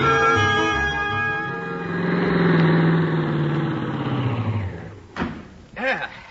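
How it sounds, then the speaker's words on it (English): A car engine from an old radio comedy turns over, settles into a low running drone and pulls away, with chatter over the top before it fades. "Start the car, Miss Brooks"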